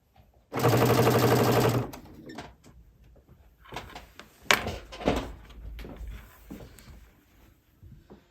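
A home sewing machine runs in one steady, loud burst of stitching around the edge of a cotton crib sheet, followed by quieter clicks and handling of fabric.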